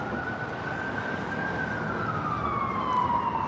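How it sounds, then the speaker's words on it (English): An ambulance siren wails on a Washington, DC street, its single rising and falling tone sweeping slowly and growing a bit louder as it approaches over steady traffic noise. "So now an ambulance is coming up."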